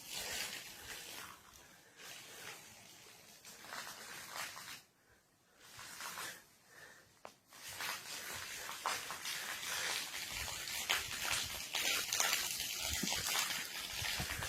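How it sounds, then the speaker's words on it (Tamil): Spring water from the Sadaiyandi Ootru Siddhar temple on Kanjamalai, Salem, trickles and gushes down a rocky channel, a steady close splashing flow that briefly dips before swelling louder. "அந்த கீழே வர தண்ணி தான் இங்க வந்துட்டு இருக்கு"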